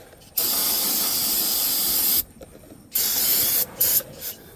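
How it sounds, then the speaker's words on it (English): Close brake cleaner aerosol spraying in a long hissing burst, then a shorter one, followed by a few quick spurts, while cleaning up an oil change on a 2018 Ford F350 Powerstroke. "I'm gonna spray everything with brake clean real quick"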